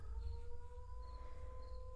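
A distant fire siren wails steadily while a dog howls along in long, drawn-out tones, over a low rumbling background.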